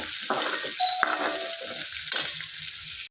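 Spices for tempering crackle and sizzle in hot oil while soaked flattened rice (avalakki) is being prepared, a steady close frying hiss with a few brief bursts of popping.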